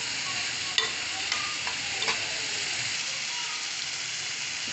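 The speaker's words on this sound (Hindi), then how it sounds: "धनिया पाउडर, ये सारे मसाले डाल के इनको अच्छे से मिक्स करेंगे" Spices with coriander powder being stirred into softening tomatoes in a frying pan for chicken liver, a soft steady sizzle with a few light scraping taps of the spoon, close and fairly quiet.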